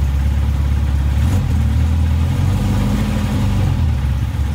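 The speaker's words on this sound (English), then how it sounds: "it looks like we're idling at about 1050 to 1100 right now" A Shorrock supercharged Sprite idles at around 1,100 rpm, a loud, steady low-pitched engine drone heard close by throughout, with a slight shift in tone midway.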